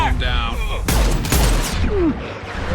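Video game combat in Mass Effect 2 brings a burst of loud gunfire and heavy impacts mixed with radio-style voices and electronic effects, dense and close through most of the moment.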